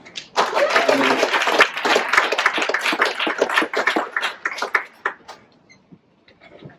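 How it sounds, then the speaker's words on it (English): Audience applause at a fireside chat on brand discovery and AI, a thick burst of many hands clapping that swells, holds for several seconds, then thins out and fades to a few scattered claps. "We'll give another round of applause for Guy."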